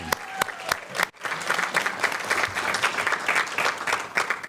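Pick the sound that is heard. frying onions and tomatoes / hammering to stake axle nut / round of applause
round of applause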